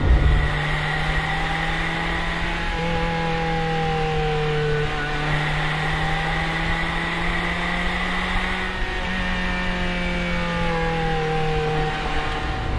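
A 1989 Ferrari Mondial T engine hums steadily from inside the car while driving, a constant drone with gentle rises and falls in pitch as it cruises, loud and continuous with no voices.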